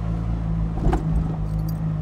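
A classic Fiat 500 engine drones steadily while driving, with a low, even mechanical hum and a brief clattering surge near the middle.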